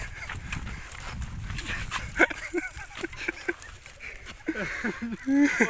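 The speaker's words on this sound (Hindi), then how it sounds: "कुत्ते" Dogs bark in a village among farmland, several sharp yaps and woofs scattered through the clip, mid-distance, mixed with outdoor noise and some voices, heard while cycling uphill.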